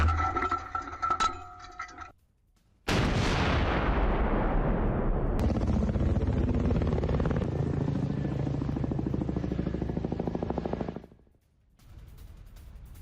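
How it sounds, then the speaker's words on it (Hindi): A Russian T-72 tank fires near Kherson: a sudden heavy blast breaks in after a short quiet and spreads into a long, loud, rumbling roar that slowly fades and then stops. No talking is heard. "जहां पर रूसी T-72 टैंक की है गोलीबारी"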